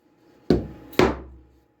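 A dead blow hammer taps wooden boat parts flush, two sharp, solid thuds about half a second apart, close and loud in an otherwise quiet space.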